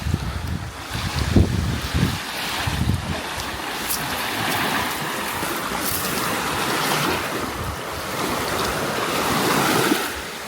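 Ocean surf breaking on Playa Blancon beach in Nicaragua, a continuous wash of waves with a few louder crashes early on, mixed with strong wind noise on the microphone and no voices.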